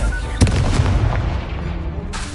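A Confringo spell explodes in Hogwarts Legacy with one loud, close boom that rolls off into a rumbling tail, and a second sharp burst follows near the end.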